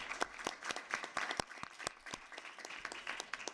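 Audience applause for panelists closing a workshop session at an internet governance forum, a thinner crowd clapping with distinct sharp claps standing out, moderately quiet and steady throughout.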